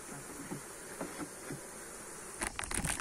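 Honeybees on the comb of a hive that was preparing to swarm give a faint, steady buzzing hum close by, with soft tapping and rustling near the end.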